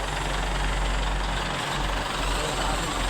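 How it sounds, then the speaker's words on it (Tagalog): Trucks at a construction site rumble with a continuous low engine drone and idle, steady and fairly close throughout. "Dalawang truck."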